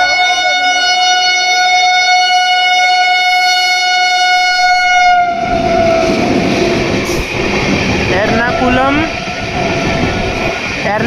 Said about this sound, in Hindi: ये आ रही है गाड़ी